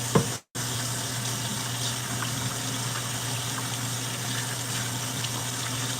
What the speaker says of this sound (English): let me wash my hand because I was touching all that slimy meat